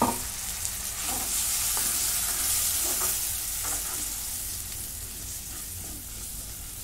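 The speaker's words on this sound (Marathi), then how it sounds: "आता 2 मिनिटं मी टोमॅटो परतून घेतला." Tomato paste sautéing in a pan for a mixed vegetable dish, a steady close sizzle with occasional stirring scrapes, fading slightly toward the end with no talk.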